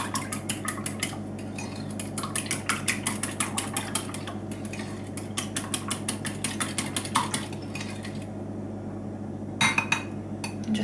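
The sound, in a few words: whisking wet ingredients with vanilla extract for rock cakes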